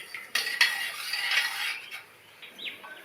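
A spoon stirs soaked rice, water and salt in a pressure cooker, giving close scraping and swishing with a couple of sharp metallic clinks against the pot.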